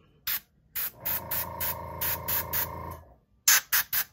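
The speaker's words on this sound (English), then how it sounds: "Got my air compressor turned on." An airbrush driven by an air compressor sprays paint in short, soft hissing puffs, with a steadier low hum from the compressor running through the middle.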